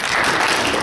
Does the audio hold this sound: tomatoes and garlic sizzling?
no